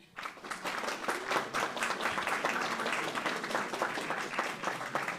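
Audience at a short-film screening applauding after a brief lead-in, with steady, dense clapping at moderate level that continues to the end.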